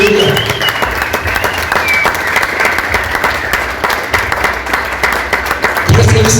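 A church congregation claps together in sustained, steady applause that fills the room at an even level, with a voice breaking in near the end.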